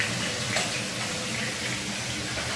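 Drinking water being drawn from a tap on a rainy, overcast day, a steady, loud, close rush of flowing water without a break.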